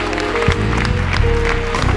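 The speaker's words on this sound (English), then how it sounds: "come on and give God a hand clap of praise" A church congregation claps hands in praise after a prayer, a dense burst of applause with organ or keyboard tones sustained underneath.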